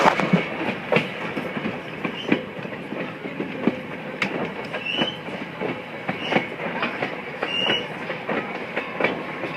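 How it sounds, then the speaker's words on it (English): A Strasburg Railroad train rolls along with rhythmic clickety-clack from wheels over rail joints, steady and fairly close, with occasional faint squeals and no talking. "The train is now coming upon the Cherry Crest Adventure Farm."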